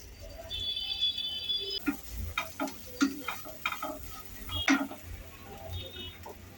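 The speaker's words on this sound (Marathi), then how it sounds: "त्याच्यावरच मी घालते दाण्याचं कूट पाच सेकंद असं परतून घेते" Peanut powder and fresh coconut for sabudana khichdi are stirred in a pan, giving a quiet sizzle and a series of light spoon scrapes and taps, with a faint electronic tone in the background.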